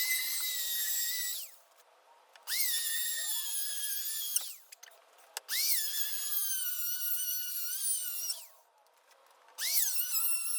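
A power planer shapes a warped oak floorboard, its high whine running in three long passes with short pauses between them, close and loud, with the motor spinning up again at the end.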